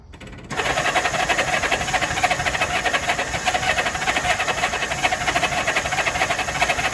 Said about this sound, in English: It's running. It's running on all cylinders still, but still got the choke on.